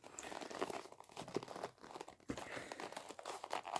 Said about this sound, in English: I'm fighting with a box and I'm losing.